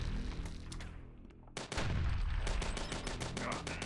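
Super shotgun gunfire in the video game HROT starts with a few scattered shots. After a short lull, a loud, dense barrage of rapid blasts follows.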